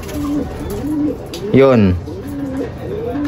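A red factor pet bird coos once, a short bright call with a falling, rippling pitch and a fuller low tail, close and clear over steady background hum and soft indoor noise.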